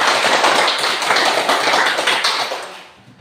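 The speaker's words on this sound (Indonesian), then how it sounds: "Mari kita tepuk tangan dulu" A classroom of students claps together in dense, continuous applause, loud and close throughout, tapering off in the final half-second.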